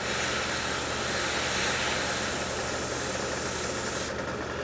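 An airbrush hisses steadily while spraying Tamiya paint onto a tank model, a continuous loud airy rush that runs unbroken and then thins slightly at the very end.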